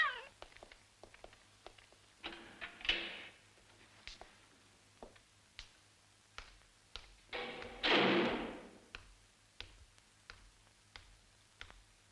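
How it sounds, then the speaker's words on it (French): A cat meows twice, loud and drawn out, between scattered soft taps and thumps in a quiet room. "Je te dis que c'est un chat."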